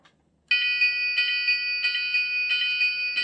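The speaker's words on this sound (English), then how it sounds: "That's the bell noise." A Lionel Fastrack O-scale model railway grade crossing bell starts abruptly after a short silence and then rings close and loud, a rapid, steady electronic ding repeating without pause.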